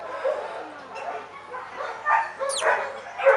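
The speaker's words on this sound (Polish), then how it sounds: "Nie, pan pies mnie nie ugryzie, Aluś?" A dog barks and yips several times in quick irregular bursts, close and fairly loud, with a whimpering squeal near the end and a voice murmuring faintly around it.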